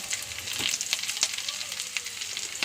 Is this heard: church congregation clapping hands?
no